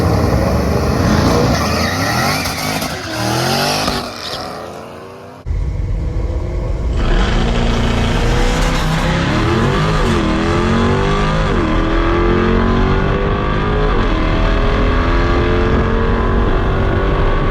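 A bone-stock C8 Corvette launches hard off the line in a drag race, its engine revving up through loud, rising sweeps with a brief dip as it shifts, then roaring steadily close by for the rest of the run.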